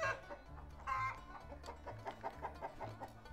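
Four older hens and a rooster clucking uneasily in a rhythmic series of short, close but faint calls, with no talking.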